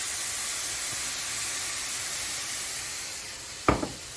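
Beef sizzles in a hot pan after soy sauce goes in, a steady close hiss that runs the whole time, with a brief knock near the end.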